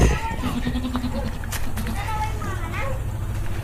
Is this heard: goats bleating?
yes